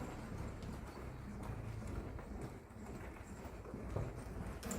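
A horse cantering in a circle, its hoofbeats thudding in a steady rolling rhythm at moderate distance, with faint outdoor ambience and occasional birds in the background.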